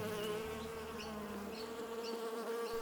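Bees swarming at a beekeeping site, a close, steady, high-pitched buzz with individual insects droning in and out, continuous and alone with no talking.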